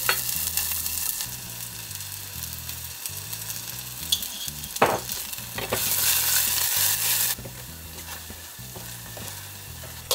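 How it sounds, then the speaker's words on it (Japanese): Leek and doubanjiang sizzle gently over low heat in a small pot, with a continuous frying crackle and intermittent scraping from stirring, and a brief louder burst of sizzling partway through. "小鍋を用意し、長ネギと豆板醤を弱火で炒め、"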